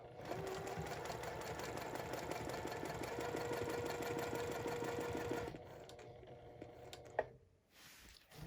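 A Juki TL-2010Q sewing machine runs in a fast, steady mechanical whir as it stitches a quilt using rulers, then stops with a few soft clicks and handling noises, close and fairly quiet.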